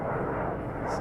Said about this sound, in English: So that is one F-15 coming back.